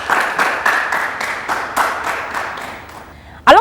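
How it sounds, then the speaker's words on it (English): An audience applauds at a health talk event, a steady patter of clapping from a moderate-sized crowd that swells and fades over a few seconds before cutting off. "A round of applause for Dr."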